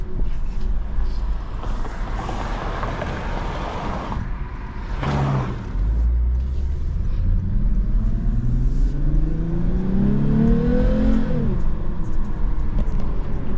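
A 2023 Lexus IS 350 F Sport engine revs up loudly and accelerates, pitch climbing steadily before dropping as it shifts, heard close from inside the vehicle.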